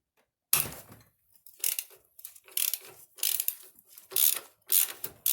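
A half-inch ratchet working a 5/8 bolt loose on a Harley Davidson engine, giving bursts of quick clicking pawl ratchets, close and crisp, repeated in about seven short runs with pauses between, no voices.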